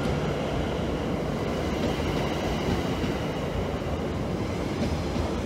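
A London Overground train at a station gives off a steady, loud rumble of wheels and motors, with a faint rail squeal in the background and no voices.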